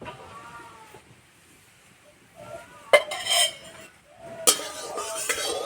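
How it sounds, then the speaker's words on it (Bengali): A metal wok clanks down onto a lit stove, then mustard oil splashes and hisses into it, two separate bursts of clatter and sizzle between quieter stretches with faint background sounds. "কড়াই দেবো সর্ষের তেল"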